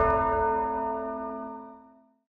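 A single deep church-style bell strike opens a political podcast intro, its rich harmonic tones ringing out clearly and decaying smoothly over about two seconds with no speech.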